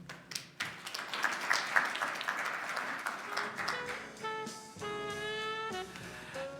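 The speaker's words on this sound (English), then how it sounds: "Another round of applause, please." Audience clapping at a Bank of Namibia 30th anniversary celebration, a moderate wash of hands that fades as tonal music with sustained notes rises to take over near the end.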